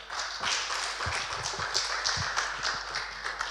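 A church congregation at a Sunday service claps to welcome the assistant pastor, giving short, fairly close applause with scattered hand taps.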